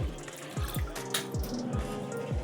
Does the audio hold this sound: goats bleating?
no